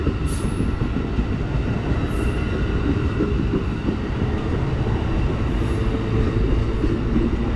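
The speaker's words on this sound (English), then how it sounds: "Hard to get these trains moving." An Amtrak City of New Orleans passenger train with Horizon cars starts to move, rumbling heavily nearby with a steady low roar, punctuated by brief high metallic squeals from the wheels.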